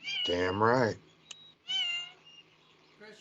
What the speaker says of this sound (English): Yes, that was my cat.